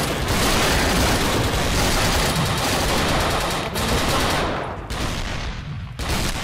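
Gunfire in the PC shooter Dino D-Day: dense, rapid automatic bursts and overlapping shots that roar loudly and without a break before thinning out near the end.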